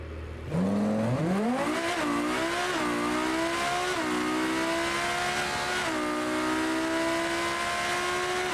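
A Lamborghini supercar engine roars loudly and steadily, with pitch rising and dipping as it revs and accelerates, sustained throughout without any voices.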